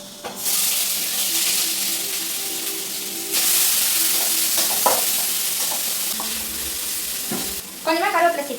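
Cinnamon, cardamom, cloves and chopped onion frying in a hot pan, a steady close sizzle that swells as more goes in, with scattered stirring clicks and a brief voice near the end.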